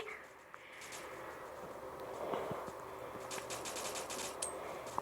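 Rapid gunfire from a shooting video game sounds faintly as quick clusters of sharp cracks over a noisy background hiss.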